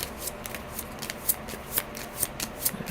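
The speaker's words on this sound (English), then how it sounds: "I usually shuffle my cards before and after I play a game." Unsleeved playing cards being shuffled, a soft continuous riffling rustle with a few sharper snaps as the deck bridges, recorded close and fairly quiet.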